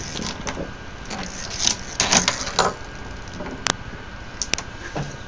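A fischertechnik roller model machine on a dry run gives off a string of light mechanical clicks and clattering ticks, moderately close, with a few sharper snaps over a steady whirring hum.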